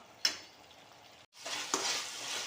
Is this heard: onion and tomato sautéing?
yes